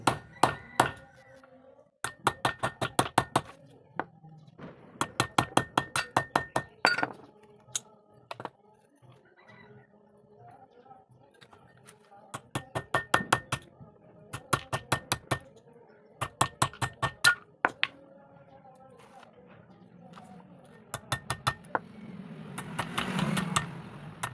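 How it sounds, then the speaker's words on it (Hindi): Hammer blows drive a thin steel shaft into the slot of a Tullu pump motor's stator to push the coil out, landing in quick rhythmic bursts of sharp metallic taps separated by short pauses, close and fairly loud. "पतले शाफ्ट से हथौड़ी की मदद से इस स्लॉट में चोट मारना है, ठोकना है"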